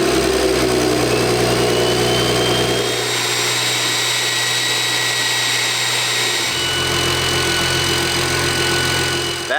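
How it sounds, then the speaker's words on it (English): A 700-horsepower BMW N54 engine with an aftermarket exhaust fires up and idles loudly and close by, its deep drone dipping briefly mid-run before settling back into a steady rumble. "let's go ahead and get you guys a sound test of the setup with the exhaust"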